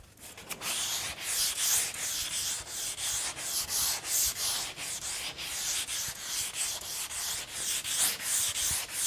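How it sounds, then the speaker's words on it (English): Sandpaper rubbed over a wooden kayak hull in steady back-and-forth strokes, a rhythmic, even scratching hiss repeating about once per second, close and alone. "I've got the kayak pretty well sanded now and faired"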